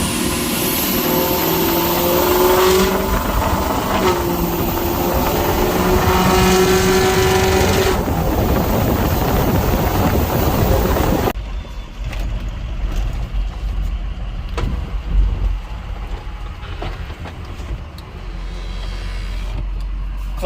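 A 6.0 diesel truck engine revs hard with a loud, roaring, rising and falling drone for about ten seconds, then drops abruptly to a quieter, muffled idle rumble with faint knocks.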